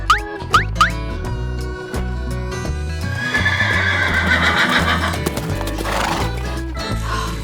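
A farm horse whinnies loudly with a few sharp initial snorts and clip-clop hooves, followed by a long neigh amid background farm sounds, with no talking.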